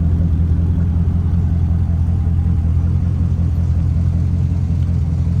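A customized 1991 Corvette with custom exhaust rumbles steadily at idle, a deep, continuous low throb held close and loud without variation.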